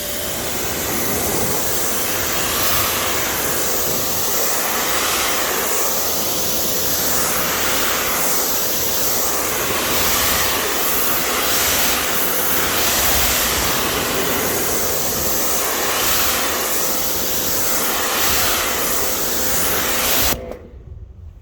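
A water hose rinses down a car after a bucket wash with a hybrid car wash product, giving a steady, loud hiss of spraying water that runs unbroken for about twenty seconds before cutting off.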